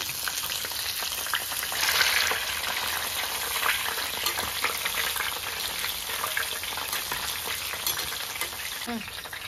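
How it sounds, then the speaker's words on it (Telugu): Sun-dried mushrooms deep-frying in peanut oil for a pickle, a dense continuous crackling sizzle with faint stirring scrapes, steady and close. "ఇట్లా ఎండబెట్టి ఫ్రై చేయడం వల్ల ఈజీగా ఫ్రై అయిపోతాయి మంచిగా"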